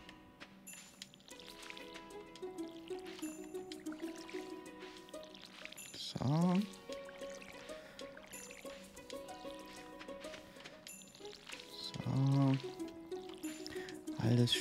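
Watering can pouring water over crops in Stardew Valley, soft splashing pours at intervals over a steady game music background, with someone talking quietly.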